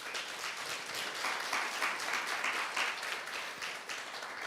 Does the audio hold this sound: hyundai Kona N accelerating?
no